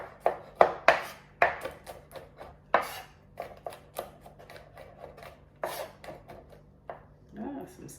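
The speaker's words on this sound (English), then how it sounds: "I'm gonna probably mince this as much as I can." A knife chops and minces smashed garlic cloves on a cutting board, with rapid irregular taps and scraping strikes close by, bunched into quick bursts and followed by a short rustle near the end.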